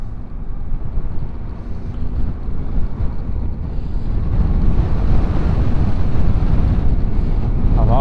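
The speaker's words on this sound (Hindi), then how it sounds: "हवा एक्चुअली तेज़ हो चुकी है यहीं पे ही।" A strong wind blows outdoors during a snowstorm in North Carolina, a loud, continuous low roar and buffeting against the microphone that grows heavier toward the end, with no voices.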